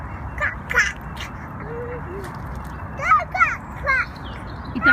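A voice imitates a duck's quack in a few short, bright bursts outdoors, with faint background noise and some adult speech between them.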